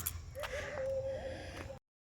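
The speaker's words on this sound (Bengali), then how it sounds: "এইখানটায় খুব সুন্দর পাখির ডাক শোনা যাচ্ছে" A bird calls in Kharagpur Eco Park, one sustained, slightly wavering whistle-like note held for over a second over a soft outdoor background, cutting off abruptly.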